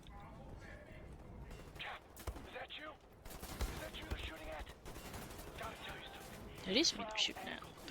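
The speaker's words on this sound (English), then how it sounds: "It is me they're shooting at." Rapid volleys of enemy gunfire in the shooter game Wolfenstein: The New Order, repeated bursts of shots, some close and sharp, others further off, with a voice talking over them.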